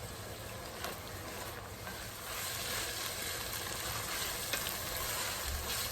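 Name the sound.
vegetables sautéing in a pot for Cajun seafood chowder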